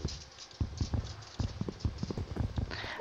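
Horse hooves clip-clop in a steady, fairly loud rhythm inside a blocky Minecraft-style video game, with no voices over it.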